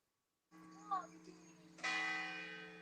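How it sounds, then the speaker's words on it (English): Church bells ring in the Italian town of Sulmona, a bright metallic peal swelling in after a quieter stretch with a steady low hum beneath, fairly loud and sustained to the end. "listen to the bells of Sulmona"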